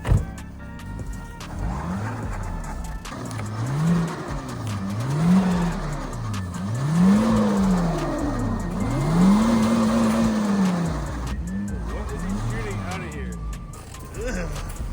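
A Honda Civic's engine revs in repeated rising and falling surges while its tires spin in deep snow during a blizzard, close by, with people talking over it.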